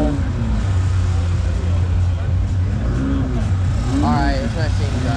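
A Toyota Supra's engine rumbles and revs at a busy car meet, with rising and falling engine tones close by. Voices and crowd noise run over the engine throughout.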